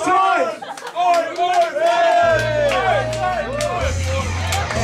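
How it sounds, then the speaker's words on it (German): A live concert crowd in a club cheers and whoops loudly, many voices shouting together with some clapping, and a low bass drone coming in partway through. "Applaus für euch."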